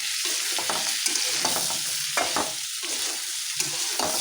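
Frying in a wok in a village kitchen, a close sizzle broken by repeated scraping stirs of a spatula at an uneven rhythm, with no voices.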